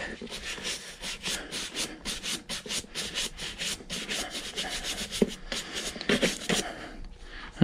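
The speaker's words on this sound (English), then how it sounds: "Let me see if I can scrub that out just a little bit more." Leather boots being scrubbed over a glue spot, a close series of rhythmic brushing strokes, dry and raspy, repeating steadily with a slight knock near the end.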